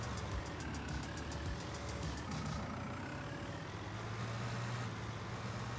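Wheel loader engine in Landwirtschafts-Simulator 19, a low steady diesel drone with a faint whine, running continuously and fairly quietly, shifting tone slightly partway through.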